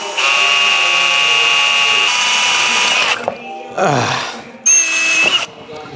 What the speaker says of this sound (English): I'm genuinely so scared to drill into these brand new resonators